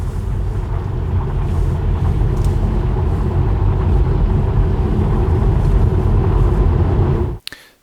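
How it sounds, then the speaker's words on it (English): Tesla Model 3 rolling on studded tires, a steady loud low rumble of road noise with a gritty hiss on top, constant throughout and cutting off abruptly near the end. "I hate with the sound that these spikes are doing"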